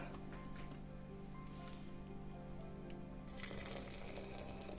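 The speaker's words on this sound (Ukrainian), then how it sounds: "заливаю кип'ятком, кипяченою водою" Steady broadband hiss of boiling water pouring into a jar of herbs, continuous and close, growing louder and brighter toward the end.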